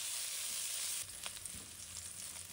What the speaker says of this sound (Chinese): 锅中加入少许食用油，润锅后烧至冒烟，放入切好的五花肉，转小火慢慢煸炒